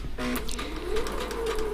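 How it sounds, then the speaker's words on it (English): A sewing machine slowly stitching the side seam of a vest lining, giving a steady, fairly quiet whirring motor hum with a faint mechanical chatter throughout. "here I'm sewing the second side seam, and it's slow."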